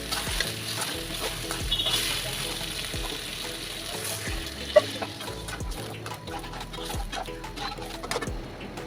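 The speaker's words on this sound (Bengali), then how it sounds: "আবারও ভালো করে নেড়ে চেড়ে অল্প পরিমাণে পানি দিয়ে দিতে হবে।" Chicken curry being stirred in a pan, with a steady close sizzle and frying hiss under repeated scraping strokes of a spoon; a brief louder clatter partway through.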